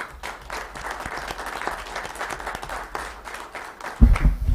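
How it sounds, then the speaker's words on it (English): An audience at a county commission meeting gives a round of applause, dense clapping from a seated crowd that runs steadily, then a louder thump near the end. "Let's give them one more round of applause"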